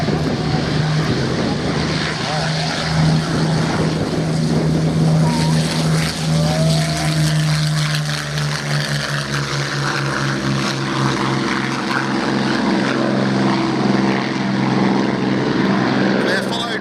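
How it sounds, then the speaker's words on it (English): Two Supermarine Spitfires, a Mark 1A and a Mark 5, run their propeller engines at an airshow with a steady, loud droning roar that holds throughout, while a commentator talks over it. "They're followed by the two Spitfires, both from Comanche fighters, a Mark 1A and a Mark 5."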